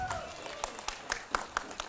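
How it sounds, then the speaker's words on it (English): A few scattered, faint claps from a conference audience at a Lions Club district convention sound in the hall, sparse and uneven rather than a full ovation. "We need a very big round of applause"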